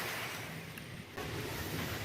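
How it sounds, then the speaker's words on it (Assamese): Wind blowing outdoors, a faint, steady rushing buffet across the microphone with a brief lull before it picks up again. "এতিয়া বতাহ মাৰিছে"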